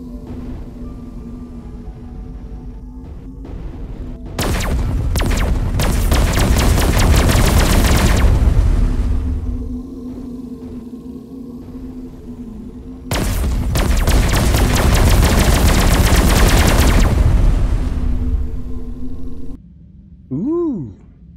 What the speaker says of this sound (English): Autocannon, a Jaeger.